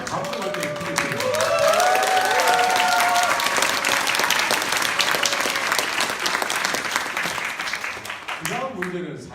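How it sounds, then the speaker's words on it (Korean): Audience at a briefing session breaks into sustained, dense applause that stays loud and even for several seconds before thinning out at the end, with voices faintly mixed in. "제가 박수 쳐주라 할 때는 작게 치고 진짜 감동할 때는 크게 치고"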